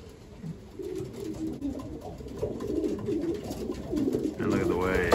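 Racing pigeon cocks coo repeatedly in a loft, a soft overlapping murmur of low throaty calls with scattered flapping and a person talking at times over the birds.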